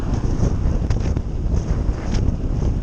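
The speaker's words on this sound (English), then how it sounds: "We've got a headwind." A headwind buffets a cyclist riding hilly roads in the Pennines, loud gusty rumble and roar across the microphone, continuous and close throughout.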